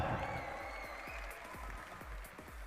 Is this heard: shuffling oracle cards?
no